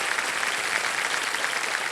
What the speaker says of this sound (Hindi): उनको हम तालियों के साथ स्वागत करते हैं एक बार फिर आपका।